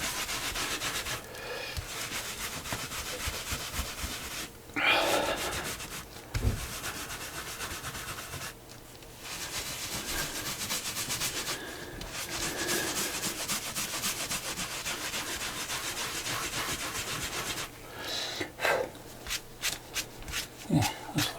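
A wax finish is rubbed by hand into a leather travel journal. Close, soft scuffing strokes repeat in steady bursts, broken by a few short pauses.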